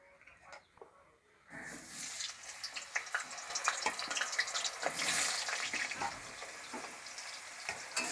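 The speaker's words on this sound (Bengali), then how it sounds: "এবার সর্ষের তেল দেবো। তরকারিতে আলু দেব, তার জন্য আমি এই রকম আলু কেটেছি। আলুগুলো এবার ভেজে নেব।" Cut potatoes drop into hot mustard oil in a wok and start a steady, bright sizzle after a quiet opening, with small crackles and pops running close and continuous.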